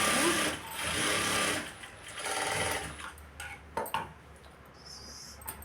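A sewing machine runs steadily while stitching a blouse lining, a continuous close mechanical whir for the first few seconds, then stopping, with a few clicks and handling sounds after.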